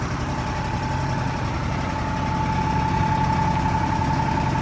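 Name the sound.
Valmet three-cylinder turbo engine of Case Dania D3000 combine running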